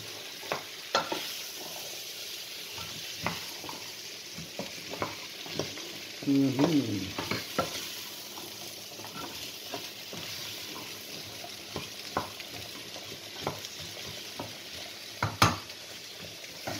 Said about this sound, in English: So into that I'm going to put the butternut squash and the sweet potato, because they're going to be the longest to cook.